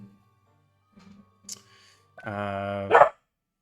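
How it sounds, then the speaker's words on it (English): After faint rustling and quiet sounds, a dog lets out a drawn-out whining howl that ends in a short, sharp bark, fairly close by. "Doggo's barking."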